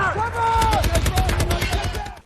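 A war film battle breaks into a rapid burst of gunfire, many loud cracking shots in quick succession, with dialogue and film score underneath.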